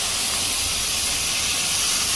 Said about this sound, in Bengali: আমার চালটা ভাজা হয়ে গেছে, আমি এখানে পানি দিয়ে দেব।